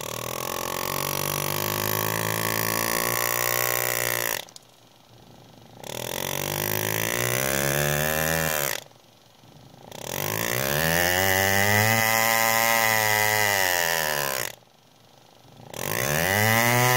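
A Lindsay AirGraver pneumatic engraver set at a medium stroke makes three cuts, each a loud, close, sustained buzzing run that rises and falls in pitch, separated by short near-silent gaps.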